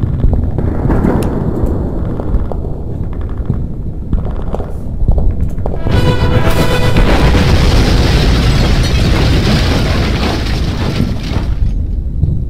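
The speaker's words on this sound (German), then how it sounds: "Ah, die polnischen Pioniere haben die Brücke gesprengt." A bridge blown up by Polish engineers in the WWII strategy game Order of Battle: a loud, rolling demolition blast erupts midway and rumbles on for several seconds before slowly fading.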